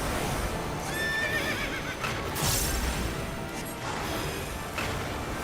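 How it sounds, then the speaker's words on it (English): A Kelpie, an evil seahorse creature in Final Fantasy 14, neighs and whinnies repeatedly in shrill bursts over a dense, steady game background, with no talking. "This evil horse is evil."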